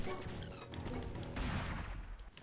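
Shotgun blasts in the Owlboy video game, a couple of sharp crashing bursts with a louder boom midway, set against busy game music and effects.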